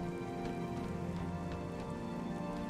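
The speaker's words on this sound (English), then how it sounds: "It's raining." Steady rain in the video game Halo: Reach patters continuously on surfaces with a dense, even hiss and no voices.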